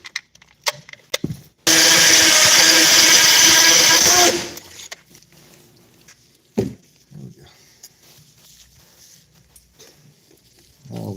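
A masonry drill runs in one loud, steady burst of about three seconds, then cuts off, followed by quieter handling noises and a few short knocks.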